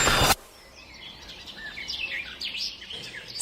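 Morning birds chirp and tweet in a scatter of short, bright calls, fairly close, after a brief loud burst of noise at the start; no voices are heard.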